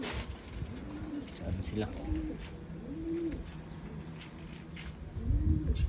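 Racing pigeons coo in repeated soft, rounded calls against an outdoor afternoon backdrop while the flock circles overhead, with a person speaking briefly nearby.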